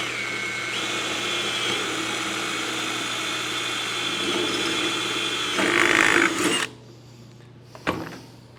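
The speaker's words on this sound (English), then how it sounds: "Let's drill this hole." A power drill whirs steadily while boring a hole for a tapered sheet metal waste basket, rising in pitch and strain as it bites through before stopping, followed by a brief clatter.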